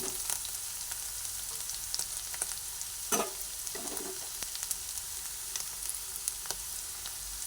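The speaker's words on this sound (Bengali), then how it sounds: "নুন দিয়ে আবার একটু ভালোভাবে নাড়াচাড়া করে নিচ্ছি" A puffed rice mixture with salt stirred in a hot pan, a quiet, even sizzle broken by a few soft scraping strokes from the stirring.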